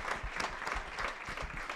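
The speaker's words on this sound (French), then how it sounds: "Vous pouvez les applaudir." Applause from an audience at a Roland-Garros event, a steady, dense clapping that fills the whole stretch evenly with no voices on top.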